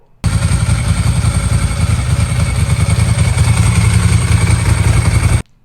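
A vintage Italian Ducati motorcycle engine runs steadily at idle, close and loud, with a rapid, even low thumping pulse and mechanical clatter throughout, starting and stopping abruptly.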